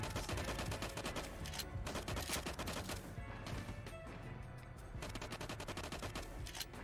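Rapid bursts of gunfire in the survival game LifeAfter, loud and dense repeated shots crackling almost continuously with no talk over them.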